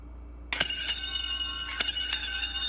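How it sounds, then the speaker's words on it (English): A ship's bell sounds as the Crew-1 Dragon Resilience undocks from the ISS: a few faint metallic rings spaced about a second apart, heard over a steady electronic hum. "Ringing the bell."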